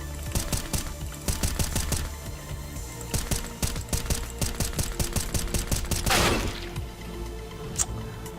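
Rapid gunfire in Counter-Strike: Global Offensive, loud bursts of closely spaced automatic shots with short pauses between volleys, a heavier blast near the end, then a few scattered single shots.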